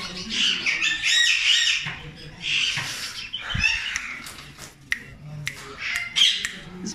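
Sun conure parrots, including a breeding pair in an aviary, give loud harsh squawks and shrill calls in repeated bursts nearby, with a few sharp knocks between them.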